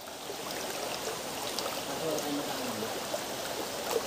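A mountain stream flows steadily with a constant rushing, trickling wash, close and moderately loud, with faint voices or other sounds occasionally rising above the water.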